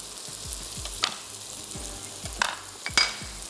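Chopped capsicum and rosemary sizzle and fry in a pan while being stirred, with a steady hiss and a few sharp scrapes and clinks of the spoon against the pan at irregular moments.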